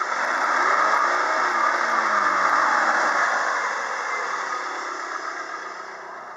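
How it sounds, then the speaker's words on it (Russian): A 2.4-litre Chrysler engine from a PT Cruiser revs at raised RPM, a loud steady close-up roar with a slight pitch swell early on, then holding and easing slightly, with no voices. "Работает двигатель на повышенных оборотах."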